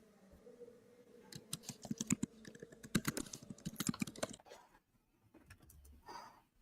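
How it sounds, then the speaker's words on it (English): Rapid, uneven clacking of a computer keyboard, close up, in bursts for about four seconds before tapering to a few isolated clicks. "I can hear her typing now."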